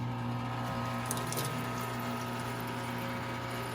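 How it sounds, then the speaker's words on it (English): A Harbor Freight 20-gallon parts washer pump runs with water, a steady electric hum under a continuous flow of liquid trickling through, close and unchanging throughout. "Now let me turn this pump back on."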